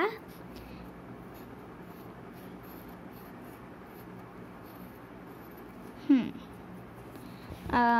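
A pen drawing on paper makes soft, steady scratching strokes throughout, close and quiet, with a short voice-like sound near the end.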